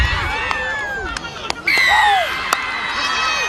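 Young spectators cheering and shouting at under-9 rugby games at ANZ Stadium, a lively crowd roar with high children's whoops and squeals rising and falling, punctuated by sharp claps and bangs.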